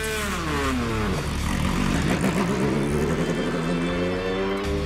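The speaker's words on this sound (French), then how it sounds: "Alors que l'Alpine revêt ses habits de lumière, elle quitte la pit lane pour retrouver, impatiente, le plaisir de la piste." An Alpine endurance prototype race car pulls out of the pit lane, its engine loud and close with a rising, revving roar and deep rumble over about five seconds.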